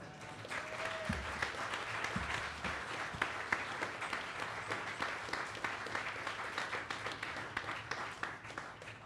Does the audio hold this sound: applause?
yes